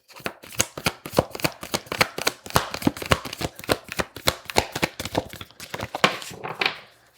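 Playing cards being shuffled by hand in a quick run of crisp, riffling flutters and taps, close and fairly quiet, with no voices.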